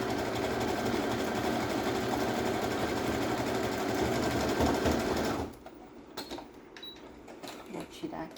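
A sewing machine stitches overlapped elastic for underwear, running loud and steady with a continuous whirring drone for about five and a half seconds, then stopping abruptly and leaving faint handling noises.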